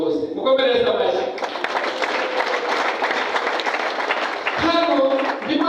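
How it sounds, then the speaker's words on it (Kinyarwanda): Church congregation applauding during a sermon: a dense, steady wash of clapping fills the middle of the clip, with a voice speaking over it at the start and again near the end. "mukomereza amashyi."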